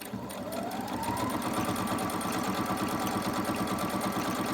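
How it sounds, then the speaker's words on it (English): A sewing machine runs steadily through ordinary stitching around fabric, a fast even mechanical chatter of needle strokes that continues close and loud without pause, with no voices over it. "I'm just going to do a bit of stitching, you know, normal stitching around."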